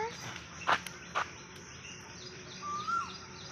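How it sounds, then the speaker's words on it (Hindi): An Asian koel in a park gives a faint, rising whistled call late on, after a couple of brief chirps amid quiet outdoor background noise. "हाँ, ये कोयल है"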